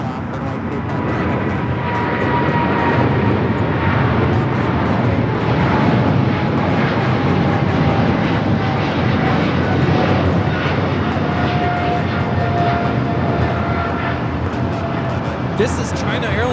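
A China Airlines Cargo Boeing 777 freighter takes off at LAX with a loud, steady jet engine roar that holds without a break, broad and rumbling, with faint talk beneath it.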